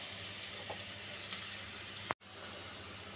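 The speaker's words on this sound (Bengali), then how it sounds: "দিয়ে এবার আলু পেঁয়াজ রসুনটাকে একটু ভাজা" Potatoes, onion and garlic fry in a pan with a soft, continuous sizzling hiss and a few faint pops, broken by a sudden brief dropout before the sizzle resumes.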